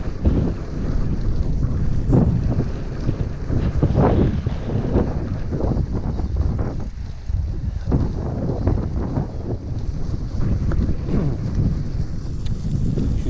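Headwind roars against the microphone of a cyclist riding a gravel loop near L'Isle-Adam, a constant buffeting rumble with irregular loud gusts throughout.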